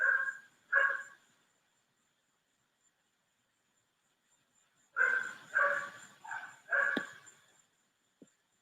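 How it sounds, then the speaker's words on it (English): Two dogs trade short barks back and forth, a pair of yaps first, then a quicker burst of four or five after a long quiet stretch. "I can hear 2 of my dogs just barking at each other"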